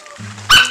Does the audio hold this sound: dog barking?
yes